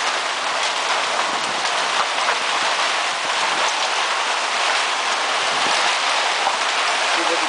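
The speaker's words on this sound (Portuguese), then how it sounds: "Chuva de pedra, olha essa pedra." Hail falls hard in Sertãozinho, Brazil, a constant roaring patter of stones striking surfaces, loud and unbroken from start to end, with no voices.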